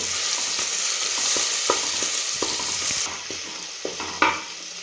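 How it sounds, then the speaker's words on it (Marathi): A paste of ginger, garlic, coriander and green chili sizzles and spatters as it is sautéed and stirred in a pan for a spicy mutton curry, a steady close frying hiss with occasional spoon scrapes. "आलं लसूण आणि कोथिंबीर हिरवी मिरची याची पेस्ट आहे ते आपण छान खमंग वास असा सुटेपर्यंत आपल्याला परतून घ्यायची"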